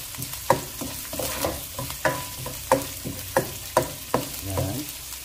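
Garlic and onion sautéing in a pan, with a spoon stirring in repeated scraping strokes over a steady close sizzle; no talking.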